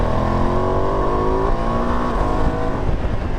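A 2025 Ducati Multistrada V2S or V4S touring motorcycle engine drones loudly and continuously while riding, its pitch climbing and falling through the revs, with no talk.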